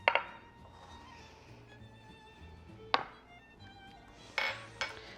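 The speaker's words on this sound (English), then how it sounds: "So let's just stir that through." Minced fresh herbs being stirred through a ratatouille sauce in a pan, with soft scraping under a low background hum and a few sharp utensil taps against the pan.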